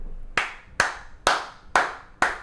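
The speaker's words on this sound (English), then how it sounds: "Everyone clapped." Five sharp hand claps land at a slow, even pace, each a crisp close smack with a brief ringing tail, and no voices are heard.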